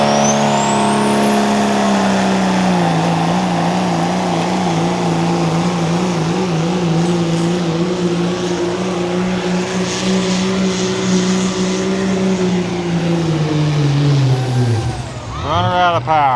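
A Cummins diesel sled pull truck engine revs hard and loud for about fourteen seconds, its pitch climbing and wavering under load before dropping off sharply near the end.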